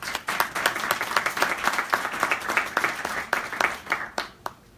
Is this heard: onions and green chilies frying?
no